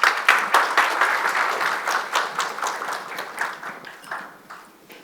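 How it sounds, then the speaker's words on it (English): Audience applause welcoming a lecturer to the stage at a hair-loss treatment talk in Istanbul, a crowd clapping steadily and close, thinning and fading out over several seconds. "So please welcome her with a big applause."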